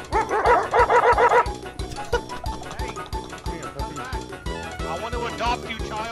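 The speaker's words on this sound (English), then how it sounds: "Is this the dog from Men in Black?" A pug barking in the GTA 5 roleplay game, with repeated yappy barks and whimpers in rhythmic bursts, fairly loud and mixed in with people talking and background game sound.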